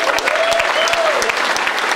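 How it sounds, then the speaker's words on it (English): Dense audience applause at a hockey team introduction event, loud and steady clapping from a large crowd that fills the whole moment, with a voice briefly over it. "Take another round of applause and thank"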